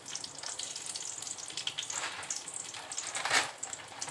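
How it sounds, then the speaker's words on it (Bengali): Packet vermicelli frying in a pan for lachha semai, a steady soft sizzle with crackling bursts throughout, one louder flare near the end, and no talking. "এখন প্যাকেট সিমাইটা একটু ভেজে নিন।"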